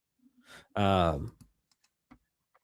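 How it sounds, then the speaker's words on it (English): A few sparse keyboard clicks from someone typing, following a short vocal sound near the start. The typing is quiet and close. "While he's typing that out"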